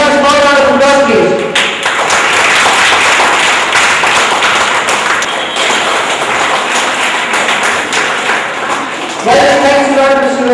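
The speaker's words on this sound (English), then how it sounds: "Can I have a small round of applause, please?" A small audience at an Indian school event gives a round of applause, a dense patter of clapping between brief stretches of someone talking.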